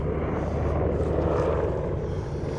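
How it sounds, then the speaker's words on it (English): A steady low mechanical drone of a helicopter, continuous and moderately distant, with no pauses or voices. "so you might hear a helicopter in the background"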